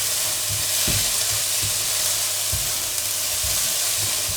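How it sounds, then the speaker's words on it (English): Onions frying in a pan for a Thai green curry give a steady, close sizzle and hiss throughout, with soft stirring knocks and scrapes repeating at irregular intervals and no talking. "Just going to fry the onions until they're just beginning to soften."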